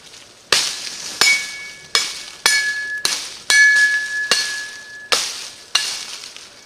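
A machete chops limbs off a stick in eight sharp, separate strikes about every half to three-quarters of a second. Each blow is close and loud, some with a brief metallic ring, and the strikes stand alone without talk.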